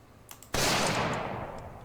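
A single loud, close hunting rifle shot in the Project Zomboid video game, a sharp crack that rolls into a long decaying boom, preceded by faint soft clicks.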